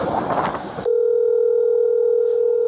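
A steady telephone dial tone on a police phone call, following a brief burst of noise, holding loud and unbroken for about two seconds before cutting off.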